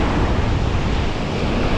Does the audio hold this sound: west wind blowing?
yes